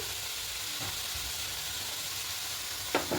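Chicken sizzles in a preheated karahi with no oil, a steady faint hiss of steam and frying throughout, and a short clatter near the end.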